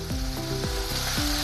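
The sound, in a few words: onions frying in a pan until coloured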